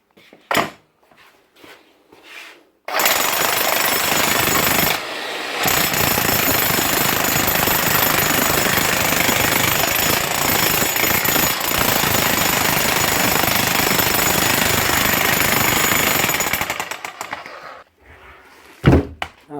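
An old Hitachi electric hammer, just repaired, starts after a few knocks and handling sounds, then hammers loudly and continuously for about fifteen seconds with one brief dip before winding down and stopping, followed by a couple of clunks.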